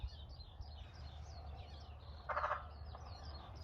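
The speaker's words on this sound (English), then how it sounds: "Still frogs in there." Frogs croak faintly down inside an old disused water well at a hilltop house ruin in Australia, with one short burst of rapid croaking over a steady hum and scattered chirps of birds or insects.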